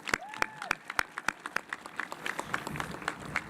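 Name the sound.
commencement audience applauding the class advisors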